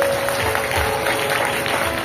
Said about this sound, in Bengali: তুহিনের জন্য জোরে হাততালি হোক